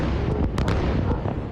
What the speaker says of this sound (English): Loud explosions and black smoke coming from the Gaza Strip this morning.